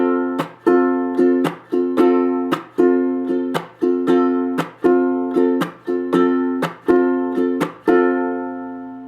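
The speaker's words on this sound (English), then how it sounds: "chucking is simply a strumming technique that we use to provide a percussive element in our playing" Ukulele chucking: a strummed ukulele with percussive palm-muted chucks, about a dozen sharp muted strokes in a steady rhythm over ringing chords, played close and alone.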